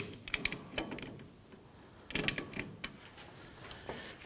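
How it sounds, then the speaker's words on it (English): Large pliers loosen a tie rod jam nut on a 2006-2010 Hummer H3, making short bursts of metallic clicks and scraping grinds up close, separated by a quiet pause. "We want to loosen this jam nut. We're going to use a pair of large pliers here."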